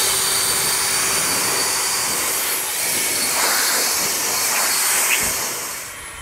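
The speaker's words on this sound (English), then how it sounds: "The 580 is the best blower from Ego, and they're discontinued." An Ego 580 leaf blower runs continuously with a loud, steady broadband roar and hiss, close to the microphone, swelling slightly mid-way before easing at the end.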